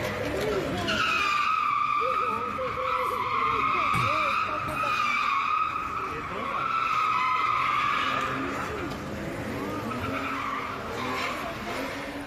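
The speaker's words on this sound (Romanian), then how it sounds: "Bărbatul făcea drifturi pe o stradă din centrul Ploieștiului" A car drifts on a street in central Ploiești, tires squealing in long, loud, wavering screeches over a revving engine that rise and fall, with a voice talking underneath.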